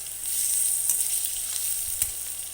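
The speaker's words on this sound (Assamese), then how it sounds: "এতিয়া মই মাছ ভজা তেলখিনিতে আলুখিনি ফ্ৰাই কৰি ল'ম" Potatoes fry in leftover fish-frying oil, giving a steady close sizzle with a few soft stirring clicks and no talking.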